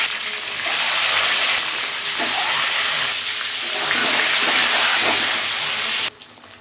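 Eggs frying in hot oil with potatoes, a loud, dense hiss of spattering oil that swells after a moment, holds steady, then drops suddenly.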